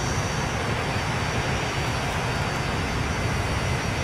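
A Boeing 737 jet in the Transport Fever game accelerates with a steady, loud, broad engine roar that holds constant throughout, with no voices.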